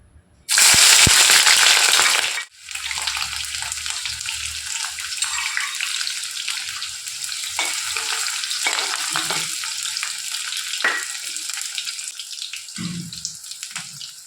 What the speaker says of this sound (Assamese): তেল গৰম হ'লত মই এয়া পিঁয়াজ দি দিছোঁ।